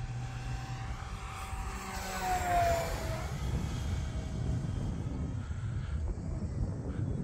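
An E-flite F4U-4 Corsair 1.2m RC model airplane makes a flying pass, its steady loud motor whine rising as it closes in, peaking and then dropping in pitch as it sweeps past and carries on overhead.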